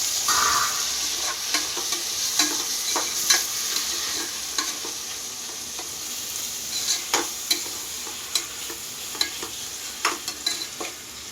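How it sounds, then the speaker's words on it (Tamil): Tomatoes sautéing and being stirred in a pan for kuska, a steady close sizzle broken by repeated sharp scrapes of a spoon against the pan, with no talking. "நான் சேர்த்து அது கூட மிக்ஸ் பண்ணிக்கலாம் போட்டு நல்லா வதக்கிக்கலாம்"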